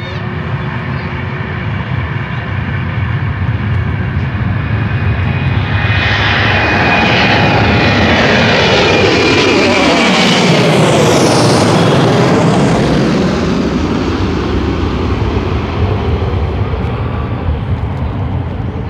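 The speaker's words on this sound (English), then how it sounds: "We've never seen a 380 takeoff." An Airbus A380 jet takes off at an airport, its engines a loud, sustained roar that swells and sweeps in pitch as it passes nearest mid-clip, then recedes while staying powerful.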